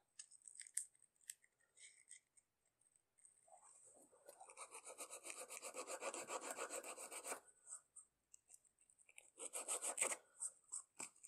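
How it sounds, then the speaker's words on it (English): Sandpaper wrapped around a rasp scrubs along carved grooves in a wooden bow tie, with short scattered strokes at first, then a long steady run of rapid rasping, and a final burst of quick strokes. "to get into the grooves that we cut, we could wrap the sandpaper around the rasp"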